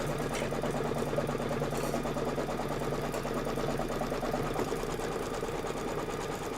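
An embroidery sewing machine quilts a background with a fast, even mechanical stitching chatter and motor hum, steady and fairly soft throughout.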